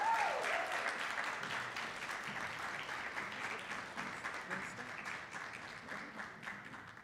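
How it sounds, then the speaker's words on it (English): A conference audience at a TEDx event applauds in a sustained, dense burst of clapping that starts loud and slowly thins out over several seconds. "Please give them a round of applause."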